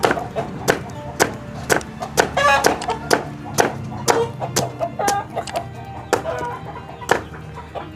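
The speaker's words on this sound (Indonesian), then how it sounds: "setelah kita kupas seperti ini, kita potong-potong seperti ini" A knife chops peeled produce into pieces for chicken feed, giving a steady series of sharp, close chopping knocks while chickens cluck in the background.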